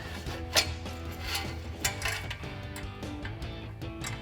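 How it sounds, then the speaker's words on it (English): Quiet, steady ratcheting clicks from a 15mm socket wrench tightening a 3-inch exhaust clamp on a Ram 1500 aftermarket single exhaust, heard against a faint mechanical background. "Now we'll go ahead and tighten this clamp down as well using our 15mm socket."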